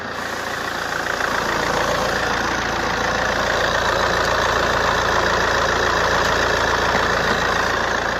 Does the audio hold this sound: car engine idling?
yes